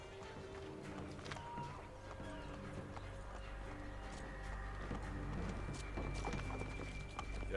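Hooves of a horse ridden along a sidewalk in Assassin's Creed 3 Remastered on Switch clop in a quick, steady rhythm, layered with busy street ambience and game sounds at moderate level.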